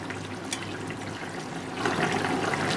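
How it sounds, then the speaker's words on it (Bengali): Fish curry with arum, potato and brinjal bubbles in a pot, a soft continuous watery churn that swells slightly toward the end, heard alone without talk. "ধনে পাতা দেওয়ার পর আরও এক মিনিটের জন্য এটাকে ফুটতে দেবো"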